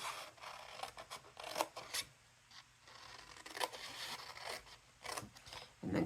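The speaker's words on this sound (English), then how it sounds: "I'm going to come in with my scissors on the short edge and just cut out or slice down to make 4 tabs on each end." Scissors snip tabs into paper, a close, quiet series of crisp, irregular cuts and short rustles spread across several seconds with no talk.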